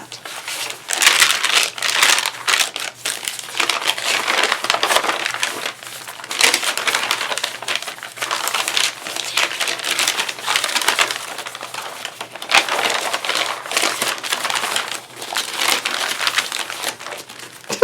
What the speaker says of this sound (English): You probably can't hear me over the crinkling.